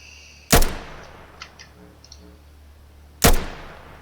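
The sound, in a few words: gun firing in burst mode in a video game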